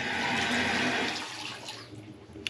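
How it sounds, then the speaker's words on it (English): Water from a faucet rushes into a vessel sink in a modern Las Vegas resort-style home, a steady splashing flow that tapers off toward the end. "check this out, the water runs here"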